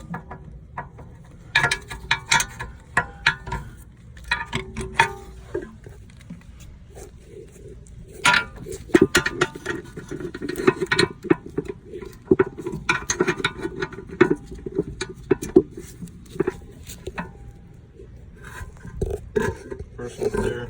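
A ratchet with a T14 triple square bit works the rear brake caliper bracket bolts off the knuckle of a 2018 VW Jetta: close, irregular clicking, metallic scrapes and clanks in bursts, with no talk.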